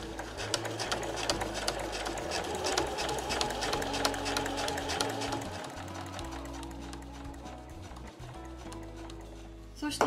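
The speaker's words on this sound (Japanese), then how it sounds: "ここの際とこの線の上をぐるっと縫っていきます。" A sewing machine stitches Marimekko cotton fabric for a drawstring tote bag, a rapid steady mechanical chatter running throughout under a woman's instructional speech.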